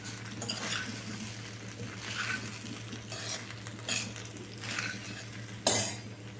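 Poha with potatoes and spices being stirred in a pan with a metal spoon, close repeated scraping strokes in an uneven rhythm over a low steady hum, ending with a sharper clink against the pan.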